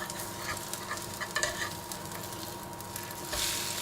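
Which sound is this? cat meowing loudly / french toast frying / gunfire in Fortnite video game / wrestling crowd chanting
french toast frying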